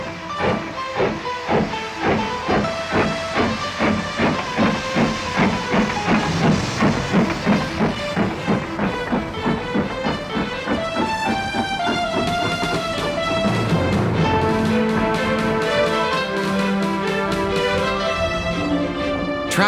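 A heritage steam train pulls out of Oakworth station toward Haworth, with rhythmic chuffs that start loud and evenly spaced, quicken, and then blend into a steady hiss and a whistle-like tone.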